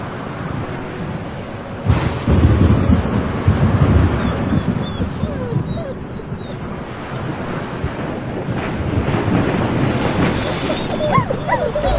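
Stormy sea with heavy surf, crashing waves and strong wind gusts buffeting the microphone, loud and continuous for the whole stretch with no distinct thunder.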